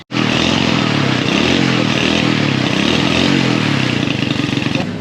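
A freshly repaired motorcycle engine runs continuously nearby in Laos, a loud steady rattling idle with a slight pulsing rhythm and no voices over it.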